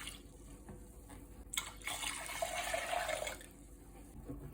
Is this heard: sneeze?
no